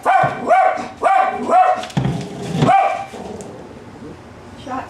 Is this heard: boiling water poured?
no